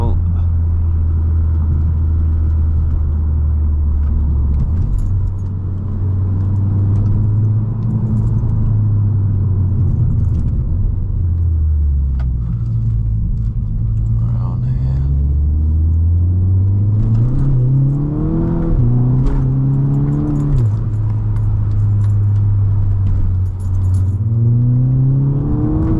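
A 263 bhp MK6 Golf GTI engine pulls through the revs while driving, the tone rising and falling across several gear changes and climbing strongly near the end, with a voice talking over the steady cabin drone.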